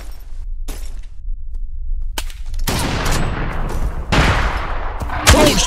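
Loud, sharp gunshots from the survival shooter game EXOME crack out in several separate bursts, close and harsh, over a constant low rumble of game ambience.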